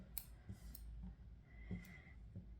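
Scissors snip through crochet yarn up close, a few soft quick metallic clicks in a quiet room.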